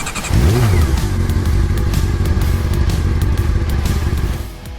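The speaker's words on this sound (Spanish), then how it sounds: "cada historia comienza con el rugido de un motor." A Husqvarna Supermoto 701 single-cylinder motorcycle engine revs hard, a loud, close, rasping roar that holds steady for several seconds before easing off at the end.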